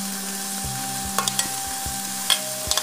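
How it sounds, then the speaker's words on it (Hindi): Beans tipped into hot oil in a pan for a veg frankie filling and stirred, giving a steady sizzle with several soft scraping stirs and light clinks, close and with no talk. "साथ में इसमें हम पहले बीन्स डाल देंगे क्योंकि ये थोड़ा गलने में टाइम लगता है"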